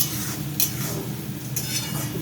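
Rice frying in a pan with onion and spices, a steady soft sizzle with a couple of sharp metallic scrapes of a spoon stirring against the pan.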